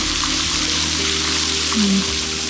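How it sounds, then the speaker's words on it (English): Steady broadband rush of a small waterfall in northern Argentina, running low during a drought: a continuous trickling wash with a low hum running underneath, constant in level throughout. "It's not a lot of water coming down due to the drought."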